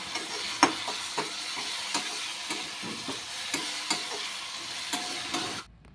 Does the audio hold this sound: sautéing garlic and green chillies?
yes